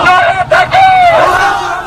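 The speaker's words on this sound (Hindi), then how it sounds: "नीचे खड़ी भीड़ खुशी में चीख रही है" A large crowd at a protest march in Kabul shouts and cheers with joy, loud and close, with rising and falling voices blending into a sustained roar.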